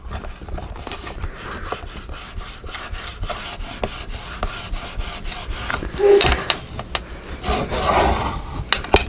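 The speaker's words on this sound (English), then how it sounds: "now I'm going to burnish it." A tool rubs firmly across glued paper on a book cover, making repeated dry scraping strokes up close, uneven in rhythm, with a couple of louder passes toward the end.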